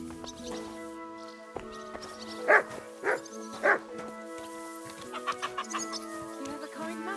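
A dog barks three times, loud and close, in Kingdom Come: Deliverance II, with chickens clucking and a musical backdrop, followed by softer yips.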